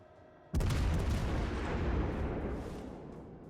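In the naval battle game World of Warships Legends, a sudden heavy boom of bomb drops and ship gunfire breaks from a quiet start into a loud, sustained rumbling roar that slowly fades.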